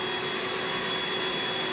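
A homemade miniature vacuum runs with a steady, loud whooshing whine and a constant motor tone, unbroken and close throughout.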